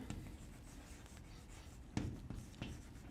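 Chalk or marker writing a physics lecture on a board, soft, faint scratchy strokes with a few sharper taps, close and quiet with no talking.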